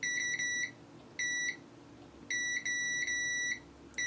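A multimeter's continuity tester beeps repeatedly in short and longer high-pitched bursts as it probes for a short on a faulty circuit board, irregularly spaced, close and clear against a faint background hum.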